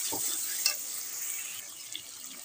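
Chicken pieces sizzle in oil in a pan for a village-style chicken curry, a steady close hiss with a couple of brief crackling pops and a light stir near the start.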